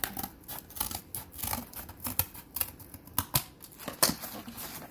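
Scissors snip through a faux floral stem in a string of sharp, quiet cuts at an uneven pace, with no talk over them.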